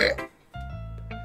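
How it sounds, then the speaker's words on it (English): A woman burps in the visual novel game Doki Doki Literature Club: a short, low, droning belch follows a brief burst of other sound and a moment of near silence. "That's her, by the way, burping."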